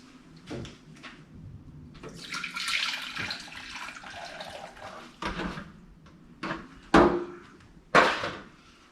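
Water splashes and runs into a pan while gravy is made with cornstarch, with a steady pour in the middle and sharp clanks of pans and utensils around it.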